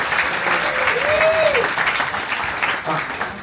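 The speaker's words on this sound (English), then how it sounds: "Give my friend a round of applause" Audience applause aboard a Disney cruise ship show, a steady wash of many hands clapping close and even throughout, with a brief whistle or cheer rising in the middle.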